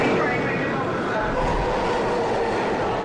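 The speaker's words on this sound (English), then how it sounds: "The train was coming in like that." A New York City subway train pulls in with a steady, loud rumble of wheels on rail and a low roar, continuous throughout with no talk over it.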